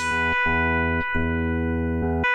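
A sustained guitar note rings steadily into a looper pedal using insert mode, with brief clicks or re-attacks cutting in at regular intervals as it repeats.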